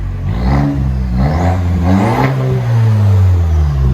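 A deep, rumbling 2.7L turbo engine in a Chevy Silverado pickup revs up and down several times close by, its low exhaust growl rising and falling steadily.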